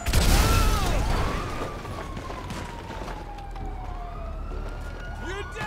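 Police car siren in GTA 5 Online, a gliding electronic wail rising and falling over loud engine and crash noise, fairly near and sustained for several seconds.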